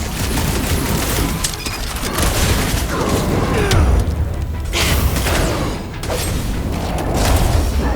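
Bombs going off in a snowy battle in Marvel's Guardians of the Galaxy, with dense, continuous blasts, rumbling booms and clattering combat noise sustained loudly throughout, a voice occasionally audible underneath.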